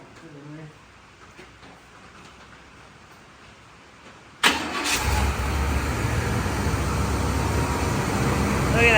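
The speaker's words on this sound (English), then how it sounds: "We're gonna just start her up." Chevrolet Caprice wagon being revived, its engine cranking and catching abruptly halfway through, then settling into a loud, rough idle after a quiet stretch with a person speaking.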